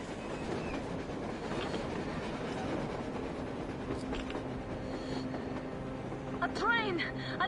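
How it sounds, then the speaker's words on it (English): A train rumbles past on the surface in the video game Metro Exodus, a continuous rolling clatter with rhythmic wheel clacks, ending in squealing metallic screeches near the close. "A damn train on the surface!"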